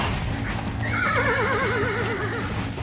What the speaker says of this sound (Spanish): Sonidos de caballos, disparos al aire y gritos.